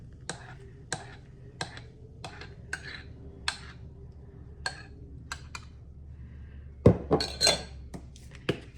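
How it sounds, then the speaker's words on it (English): A spoon and dishes clink while frothy tea is made, a series of sharp separate metallic and ceramic taps spaced out at an even pace, then a cluster of louder clatters near the end, close and quiet with no talking. "let me get a spoon out"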